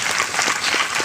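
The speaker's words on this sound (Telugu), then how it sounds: "చప్పట్లు కొట్టండి." An audience at an open-air gospel revival meeting in Agnigundala breaks into applause, a thick, continuous burst of many hands clapping up close.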